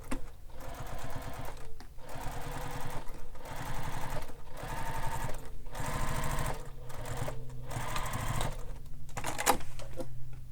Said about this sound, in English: So I'm top stitching on the base panel with the seam allowance under the base